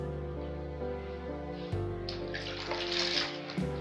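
Water pours steadily into a large container while liquid soap is being made, a continuous close filling sound whose pitch shifts as the level rises, with a brief pause and surge partway through.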